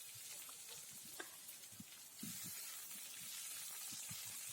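Ground ginger-garlic paste with ground green chilli frying in a pan, a faint steady sizzle with soft scattered crackles and a few stirring scrapes.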